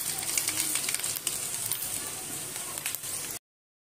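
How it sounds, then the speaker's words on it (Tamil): Mustard seeds sputter and crackle in hot oil in a pan outdoors, a steady dense sizzle with small pops running close and fairly loud, then cutting off abruptly. "கடுகு பொரிஞ்சிருச்சு"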